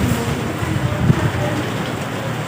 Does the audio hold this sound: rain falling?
yes